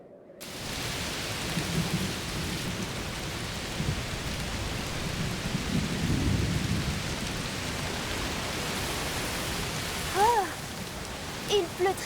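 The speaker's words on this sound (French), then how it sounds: "Il pleut très fort. Oui, un orage de chaleur sûrement." Heavy rain from a summer heat storm in the video game A Plague Tale: Requiem pours steadily with a low rumble of thunder rolling underneath, loud and continuous throughout.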